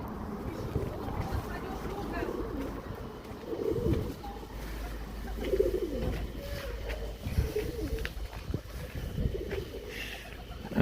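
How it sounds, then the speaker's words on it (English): Pigeons coo softly on a sunny Saint Petersburg street, their low calls recurring under a man's nearby speech and steady outdoor background hum. "Hello pigeons"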